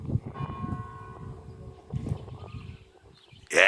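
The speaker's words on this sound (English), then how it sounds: "church bells going for 5 o'clock" Ranworth church bells ringing out five o'clock, steady tolls with a faint ringing tone over low outdoor rumble, ending in a sudden loud noise at the close.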